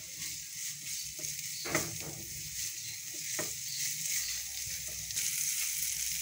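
Pre-boiled minced meat keema fries with spices in oil, a dense close sizzle broken by a few sharp scraping clinks of stirring in the pan.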